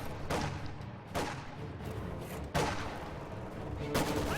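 A Maxim machine gun firing in a strategy video game battle, with loud bursts of gunfire about a second apart over a constant crackle of distant shots.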